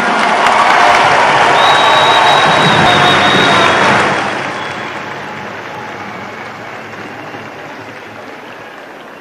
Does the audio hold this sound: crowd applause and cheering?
yes